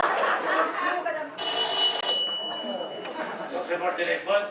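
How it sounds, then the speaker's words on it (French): A doorbell gives a sustained electric ring for about a second, partly under ongoing conversation, and a fainter tone lingers afterward while people keep talking. "Ça, c'est pas le téléphone, c'est la sonnette."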